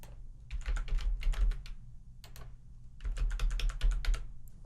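Rapid bursts of typing on a computer keyboard, two clusters of quick clattering keystrokes close up with a short pause between them, steady hum underneath.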